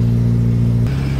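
Close, loud engine note of a 1994 Suzuki Katana motorcycle, holding a steady rev before the pitch drops sharply as the throttle is released.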